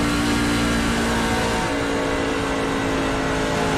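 Damaged NASCAR truck engine in iRacing, Class C fixed series, droning loudly and steadily with a rough, strained tone throughout, no talk over it.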